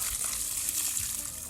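Water gushes and splashes steadily while plants are watered on a farm, including a pomegranate tree, a continuous close hissing flow that stays even throughout.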